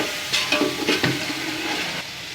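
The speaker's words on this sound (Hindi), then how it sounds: "हम इनको अच्छी तरह से मिक्स करेंगे।" Tomatoes and green chillies are stirred in a hot pan for junglee pulao, a continuous sizzle broken by several quick scraping strokes of a spoon.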